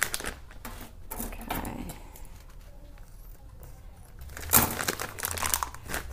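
A plastic piping bag filled with churro dough crinkles as it is handled, giving soft, irregular rustles and scrunches at close range with faint background noise.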